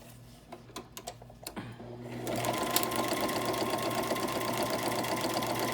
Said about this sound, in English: now I'm going to stitch down here first.